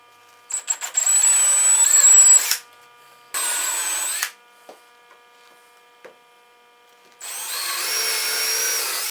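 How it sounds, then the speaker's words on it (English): A power drill bores a pilot and countersink hole while building a wooden jig, running in three separate bursts with short pauses between them, heard close over a faint mains hum. "the first hole you're going to want to drill is a pilot or a countersink"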